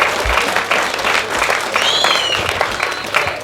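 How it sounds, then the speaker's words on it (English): Wedding guests applaud at a reception, a dense wash of clapping from a crowd nearby, steady throughout with a few brief voices and a faint whistle mixed in. "A round of applause for them, please."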